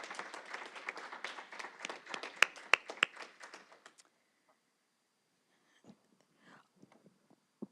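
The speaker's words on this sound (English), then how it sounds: "Can we please give these students another round of applause?" Audience clapping at a school board of education meeting, a dense burst of many hands for about four seconds, then tapering off into a few scattered claps and quiet room noise.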